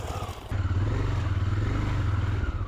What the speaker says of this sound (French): j'arrive pas à faire aller la moto bien droit